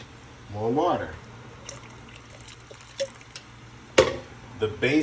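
Water splashes and trickles into a gravy pan in short bursts, with a brief stretch of talking near the start and faint clinks between pours.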